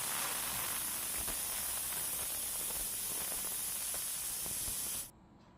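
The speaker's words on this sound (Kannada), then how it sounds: "ನೋಡಿ ಈಗ ವಿಷಲ್ ಬರ್ತಾಯಿದೆ" A pressure cooker cooking beans kurma vents a loud, steady hiss of steam that holds for about five seconds and then cuts off abruptly.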